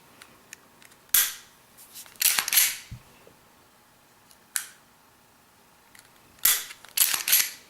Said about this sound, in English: the reset on the trigger is nice and crisp, which I will show you here